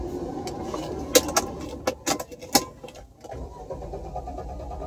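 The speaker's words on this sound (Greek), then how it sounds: "Βλέπουμε μιζάρι και δεν παίρνει." A Mercedes SLK R171 cranking without catching, a few short uneven starter bursts and clicks over a low background hum, then quieter.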